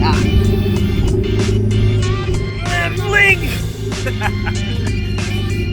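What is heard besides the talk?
Ferrari race car engine revving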